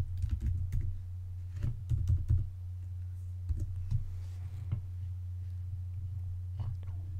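Password being typed on a computer keyboard, with bursts of close, crisp key clicks in short irregular runs over a steady low hum, separated by brief pauses.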